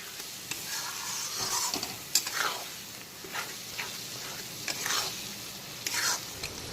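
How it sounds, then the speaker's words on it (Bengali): Spice paste for muri ghonto being stirred and fried in a pan, a steady close sizzle broken by repeated scraping strokes of a spoon through the thick masala, with no talking. "এখন প্রায় 7 থেকে 8 মিনিট সময় নিয়ে পুরো মশলাটাকে কষিয়ে একদম ভাজা ভাজা করে নিয়েছি।"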